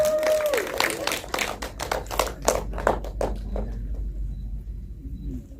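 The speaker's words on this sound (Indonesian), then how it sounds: "tepuk tangan dong buat Mas Sadana" Applause from an audience at a film press conference rolls through the room as one presenter after another is introduced, a dense patter of claps peaking midway and thinning toward the end, with a voice briefly over the start.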